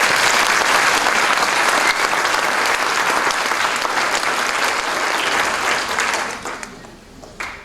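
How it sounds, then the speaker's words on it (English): Sustained applause from an audience at a middle school prize day ceremony honouring the faculty, dense and steady clapping that holds loud for several seconds before thinning and tapering off near the end. "A round of applause for the faculty."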